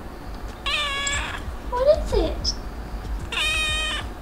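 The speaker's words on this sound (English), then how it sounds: "He has the whiniest meow in the world." A kitten meows two drawn-out, whiny cries close up, separated by a soft voice speaking in between.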